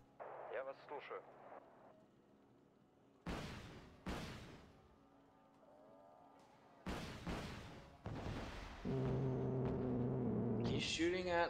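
Gunfire and artillery in the strategy game Wargame: Red Dragon, with a handful of sharp, separate blasts spaced across quiet stretches, near and fairly loud, plus faint game sounds between them.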